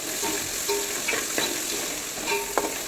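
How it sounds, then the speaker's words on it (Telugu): Spice paste for chicken curry being stirred in a hot pan, with a steady sizzle and several scraping, clinking strokes of the spoon at an uneven pace. "మంచిగా కలిపేసుకోవాలండి పేస్ట్ అంటుకుపోతుంది కొంచెం జాగ్రత్తగా కలుపుకోండి"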